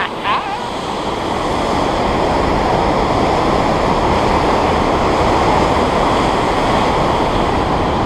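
Water rushes down a fish ladder built for spawning fish, a loud, continuous broadband roar like surf that stays steady for the whole stretch, with no voices.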